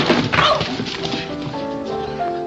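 A dog whimpers and gives a few short, whiny yips close by, the cries rising and falling over a steady backdrop of music-like tones.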